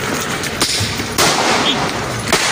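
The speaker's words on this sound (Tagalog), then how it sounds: "biglang may maririnig na mga putok ng baril at pagkaripas ng isang motor" Gunfire erupting past midnight at a police checkpoint in Payatas, Quezon City, as a speeding motorcycle flees: a few sharp, loud cracks scattered over a couple of seconds against a noisy background.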